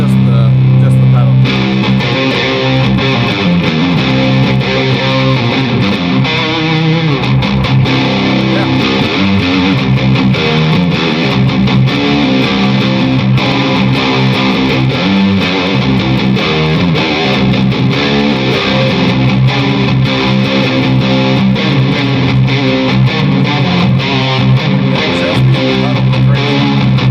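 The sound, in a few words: electric guitar through Keeley Noble Screamer overdrive pedal with reverb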